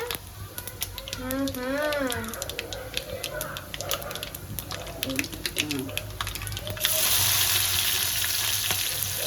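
Onions sizzle and fry in a pan for chicken curry with a steady crackle, while a voice talks over it and the sizzle grows louder near the end.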